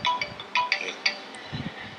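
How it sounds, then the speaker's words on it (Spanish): A phone alert sounds during a university lecture on learning and psychopathology, a short series of bright ringtone chirps repeating in quick bursts, moderately loud in a room, with low murmurs beneath. "No es mi teléfono, indica que han pasado 30 minutos."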